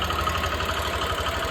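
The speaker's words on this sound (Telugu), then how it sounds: "ఇప్పుడే నేనే ఆపాను ఇంజన్, అదైతే ఆగలేదు." A Hero XPulse motorcycle, in poor condition after sitting unused for a year, idles with a steady, low, throbbing engine note close by. No one speaks.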